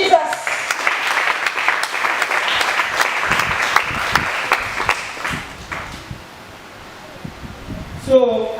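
A congregation applauds at a church deliverance service, with many hands clapping loudly and continuously before the noise thins and fades near the end, where a voice briefly cuts in.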